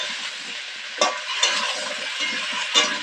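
Potato and cauliflower pieces frying together in oil with salt and turmeric, a loud, bright continuous sizzle with a few sharper bursts as the pieces are tossed and stirred, close up and with no voices.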